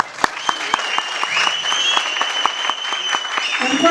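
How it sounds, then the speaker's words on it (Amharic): An audience at the Rebik Sani event applauds the platinum sponsor, Tri Brothers, with many sharp, quick claps over a soft, sustained tonal hum, continuing steadily. "ከእናንተ ጭብጨባችሁን እጠብቃለሁ"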